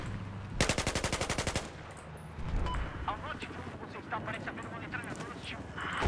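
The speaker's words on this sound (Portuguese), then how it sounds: "tem metralhadora por aqui." A rapid burst of machine gun fire rattles loudly for about a second during a Battlefield 1 multiplayer match, then battle noise continues while someone talks excitedly over it.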